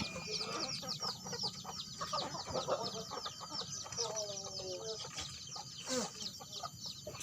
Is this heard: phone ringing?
no